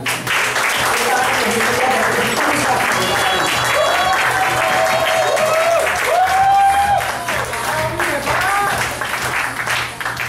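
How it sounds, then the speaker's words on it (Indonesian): An audience applauding a speaker at a motivational talk, a loud, continuous wash of clapping with crowd voices and cheering rising over it. "Tepuk tangan dulu ya"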